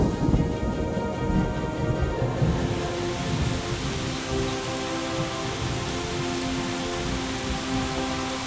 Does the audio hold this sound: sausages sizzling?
no